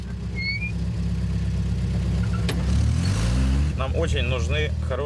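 An old, worn Soviet-era jeep engine idles and runs with a steady low rumble, rising briefly in revs; voices speak over it near the end.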